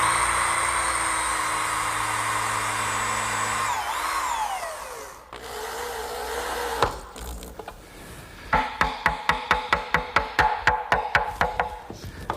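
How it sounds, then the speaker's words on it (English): A power tool runs steadily and winds down. Then screws are driven to fasten a strip of maple wood, heard as a rapid series of sharp, close, rhythmic ratcheting bursts from a drill. "I'll just attach that with some screws"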